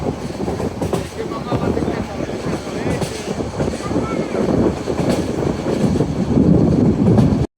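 Non-stop Cox's Bazar Express rolling toward Dhaka, heard from on board: a loud, continuous rumble with rhythmic wheel clatter and rattling carriage, with talk mixed into the noise.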